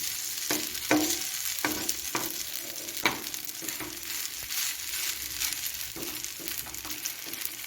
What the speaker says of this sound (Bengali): গ্যাসটা এখন আমি লো টু মিডিয়ামে রেখে ভেজে নেব